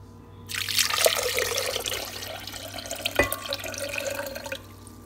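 Apple juice pours in a steady, splashing stream into a pot for several seconds, close by, then tapers off.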